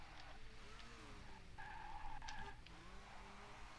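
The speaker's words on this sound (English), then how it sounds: "Nice handbrake turn around there as well." A rally car is thrown into a handbrake turn after a fast downhill stretch before a small town, its tires skidding and squealing in a loud, sustained screech over the steady engine roar, with no talk.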